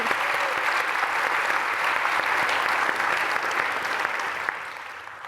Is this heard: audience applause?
yes